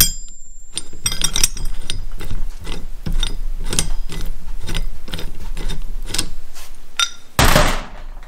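A ratchet tool clicks in rapid bursts while unscrewing the lock nut from a Chevy Nova steering column, the close metallic ratcheting repeating steadily before a brief louder clatter near the end.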